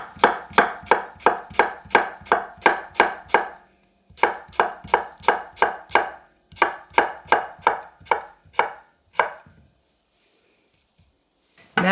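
A Shibui Damascus gyuto knife chops an onion on a board in quick, even bursts of crisp thuds, close and distinct, with short pauses between runs before the cutting stops near the end.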